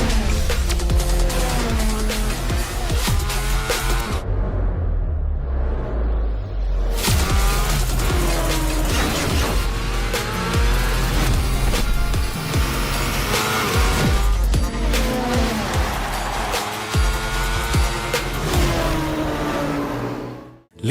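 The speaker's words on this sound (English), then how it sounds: "Introducing the 2025 TVS Apache RTR" A 2025 TVS Apache RTR 204V motorcycle revs and roars through a fast-cut commercial, loud engine swells and shifting pitches over a layered music bed, with a brief quiet gap near the start and a sudden cutoff at the end.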